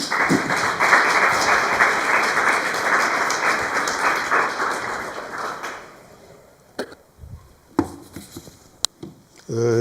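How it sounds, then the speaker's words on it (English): Lecture audience applauding to welcome a speaker in Hildesheim, a dense, steady round of clapping for about six seconds that fades out, followed by a few scattered handling knocks and brief murmurs. "please welcome the speaker with a round of applause"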